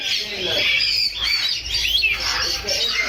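A parrot calls at a busy bird market, giving a run of loud, close squawks and chirps that carries on for a few seconds against background chatter.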